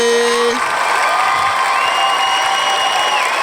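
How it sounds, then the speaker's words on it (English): Crowd noise fills the space continuously, a dense wash of cheering and clapping with scattered whoops, steady and fairly loud throughout with no clear breaks. "You hear the crowd. You hear the crowd."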